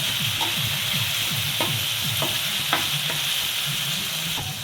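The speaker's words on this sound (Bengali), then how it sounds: "ভালো করে আমি নাড়াচাড়া করে নেব" Potatoes with turmeric and chili powder are stirred in a hot pan, a continuous sizzle and frying hiss under repeated scraping strokes of a spoon, close and clear with no talk.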